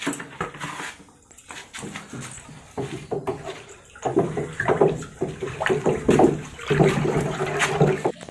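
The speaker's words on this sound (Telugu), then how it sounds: "ఈ బెల్లం నీళ్ళు ఇందులో కలిపిన తర్వాత కర్రతో బాగా కలుపుకోవాలి" Water sloshing and swirling in a drum as a stick stirs in jaggery water, with uneven splashing surges and a dog whining faintly at moments.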